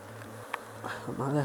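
Honeybees buzz steadily at an open hive during a colony inspection, a continuous low drone with a voice starting to speak near the end.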